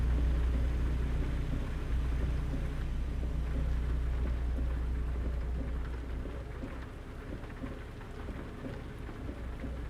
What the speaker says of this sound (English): There is still rain, but the rain is so damn fine that I couldn't see it a minute ago.